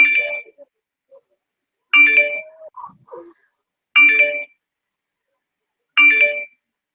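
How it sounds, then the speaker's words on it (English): A phone notification tone chimes four times at regular intervals about two seconds apart, clear and close, with brief quiet gaps between and faint movement after the second chime. "Why is your phone blowing up so much?"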